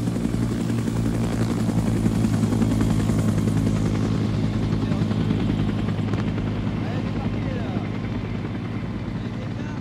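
A helicopter's rotor throbs steadily and loudly throughout, a dense, continuous low chopping drone that holds nearly constant for the whole stretch.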